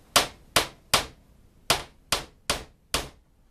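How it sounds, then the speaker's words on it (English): An RC axle shaft from a Maxstone 10 tamped down onto a desk to push off its bearing, seven sharp knocks in an uneven rhythm, close and crisp, with no talking. "I'm just tamping the axle down into my desk here"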